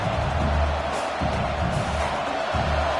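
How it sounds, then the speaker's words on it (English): Stadium crowd noise from the College Football 26 video game forms a steady, dense roar with a low rumbling undertone, loud and continuous without distinct voices standing out. "listen to this crowd noise. This stadium is vibrating."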